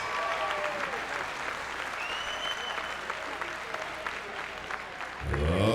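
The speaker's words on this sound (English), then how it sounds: "a round of applause for a hard-fought opening contest" An arena crowd at a fighting championship applauds after a hard-fought opening bout, a steady wash of clapping with faint cheering throughout, swelling louder right at the end.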